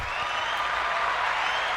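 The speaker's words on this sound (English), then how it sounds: "It's cheering." A studio audience cheering and applauding at an improv comedy show, a dense steady wash of clapping and crowd noise filling the whole moment.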